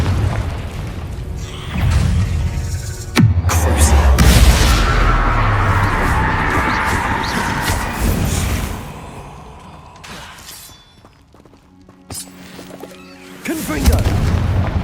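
The Confringo spell going off in Hogwarts Legacy, with a sharp crack followed by a heavy, rumbling blast that slowly fades. A second burst comes near the end, and a voice speaks over the game sounds.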